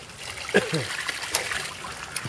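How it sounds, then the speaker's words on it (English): Overflow wastewater from a water ram pump splashes and trickles into a bucket in Elgin, Texas, with a few irregular close-up spatters standing out over a light, steady dribble. "That's some of the overflow water coming out right there."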